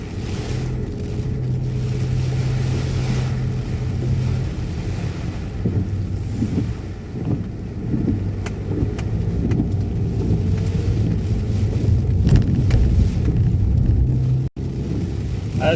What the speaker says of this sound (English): Guys, I'm taking you to ride in my Skoda Superb.